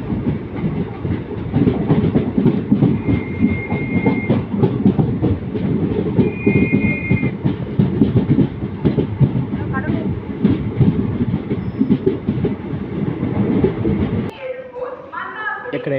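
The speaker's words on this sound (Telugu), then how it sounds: "మన ట్రైన్ అయితే బయలుదేరిపోతుంది చిదంబరం స్టేషన్ నుండి" A train pulls out of Chidambaram station on the Mannai Express run from Chennai to Thiruvarur, with a steady loud rumble and wheel clatter filling the cabin under ongoing voices, cutting off abruptly near the end.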